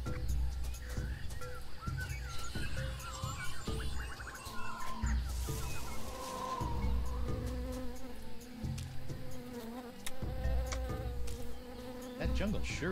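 Buzzing insects, bees among them, fill a noisy jungle in the Tales of Monkey Island video game, a steady hum with bird-like chirps and a dense layered ambience running the whole time.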